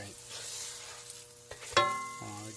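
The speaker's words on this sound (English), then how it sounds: "Oh, look, I lost the banana. It's frying up." Banana slices fry in a pan with a soft, steady sizzle, quiet and close, while faint clinks and a brief scrape of stirring cut in partway through.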